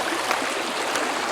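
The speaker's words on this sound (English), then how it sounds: "Stop and listen to the creek for a minute." A swollen creek, running high after several days of rising water beside a garden, rushes and burbles in a steady, even flow with no voices over it.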